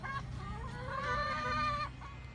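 Chickens clucking and chattering close by in a backyard coop, a steady stream of overlapping calls with one longer drawn-out squawk in the middle, no talking.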